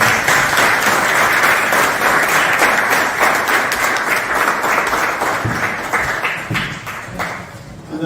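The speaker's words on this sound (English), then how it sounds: "Another round of applause for our speaker." An audience at a public lecture applauds steadily and loudly, the clapping tapering off slightly toward the end.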